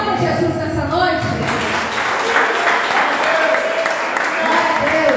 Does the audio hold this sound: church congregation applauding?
yes